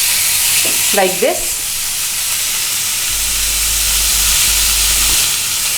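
Chicken pieces sizzling in oil on a greased grill pan over the stove, a steady loud hiss and crackle throughout, with a brief voice speaking near the start.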